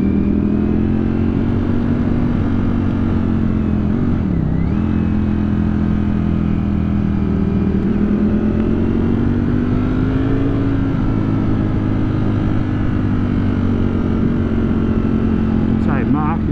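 A 2021 Ducati V4 Streetfighter ridden hard through mountain bends, its engine a loud, continuous close drone rising and falling in pitch with throttle and gear changes, wind rushing throughout.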